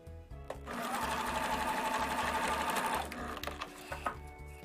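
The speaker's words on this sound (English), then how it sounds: "we're going to sew 1/8 of an inch in from there" A sewing machine stitching the hem of a cloth mask, steady rapid needle chatter with a motor whine, running continuously for a few seconds before slowing with brief stops and restarts.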